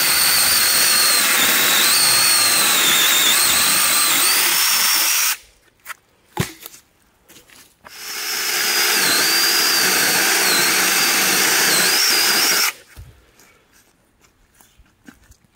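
A Troozy 6-inch electric chainsaw cuts through a dead cherry tree about four inches thick, whining loud and steady for roughly five seconds, then after a brief pause with a few knocks, cutting again for about five more seconds before stopping.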